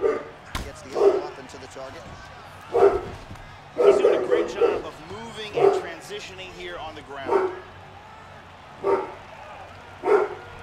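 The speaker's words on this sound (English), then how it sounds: "my dog's barking" A dog barks in short repeated yips and bow-wows, roughly every second or two, close by and fairly loud, during home sparring or takedown practice, with people talking and sounds of movement in the room.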